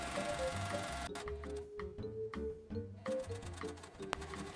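Domestic sewing machine stitching down the placket of an adjustable-waist pinafore dress about an inch from the edge, with a steady mechanical whir that stops and restarts in short bursts and has light clicks between runs.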